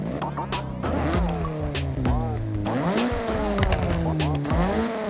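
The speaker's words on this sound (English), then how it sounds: "definitely hear an Altezza's driving around with that tone on their exhaust" Several video game cars, including a Toyota Altezza RS200 rally build, roar past with rising and falling engine tones and squealing tires, loud and continuous, layered engines revving over one another.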